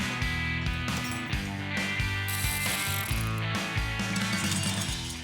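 Hand tools work on a steering column during teardown, removing the steering wheel, hub, adapter and cover, with repeated ratchet clicking and metallic clinks under loud continuous background music.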